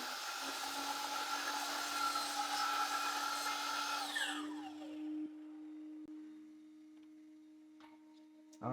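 A miter saw with a Diablo blade cuts through plywood, a loud broadband whine for about four seconds that then spins down and fades away, leaving a low hum and a few faint clicks.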